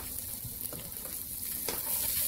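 Carrot, celery and broccoli stem being stirred in hot oil in a pan for Chinese-style fried rice: a steady close sizzle with scraping spoon strokes, continuous and without talk.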